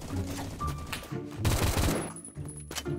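AKM assault rifle fired in the Phantom Forces video game, several sharp gunshot bursts in quick succession with booming low thuds and a short gap between volleys, heard without speech.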